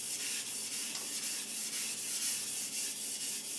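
A Takeda gyuto is drawn over a Japanese whetstone in a steady, gritty rasp, repeated in quick, even back-and-forth strokes, close and alone.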